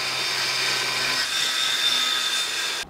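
A grinder works steadily against steel tubing being shaped for 4WD barwork on a 30-year-old Nissan GQ Patrol, a continuous close, bright, high-pitched whine that cuts off abruptly at the end.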